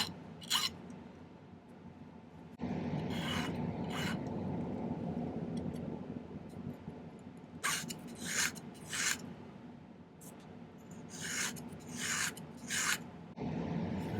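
A piece of silver stock for a moth pendant is cut by hand, giving a steady close rasping sawing noise with repeated brighter stroke bursts, and no talking.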